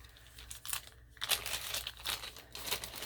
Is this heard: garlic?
no